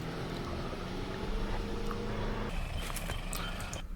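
A Nissan Navara NP300 N-Trek Warrior pickup creeps down a rocky offroad ledge, its engine a low steady drone under crunching, knocking rock and tyre noises. The noise grows rougher toward the end.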